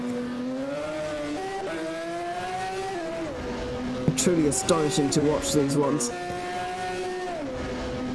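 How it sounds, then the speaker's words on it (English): E2 SC-SS 3000 category hill climb race cars at a European Hill Climb Championship round at Dobšinský kopec, engine note rising through gears with shifts, a brief burst of crackling and popping midway, under continuous commentary. "these absolutely mind-bending E2 SCSS 3000 category machines"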